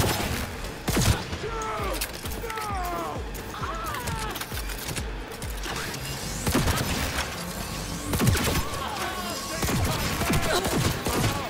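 Dense gunfire in the video game Cyberpunk 2077, rapid overlapping shots and crashes going off almost continuously at close range with loud bursts throughout.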